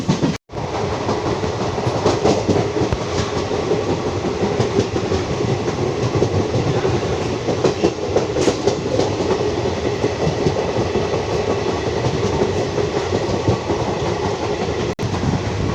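A Porbandar–Howrah special passenger train runs on rails in heavy rain, with a steady loud rolling roar and rhythmic clickety-clack heard from inside a coach for the whole stretch.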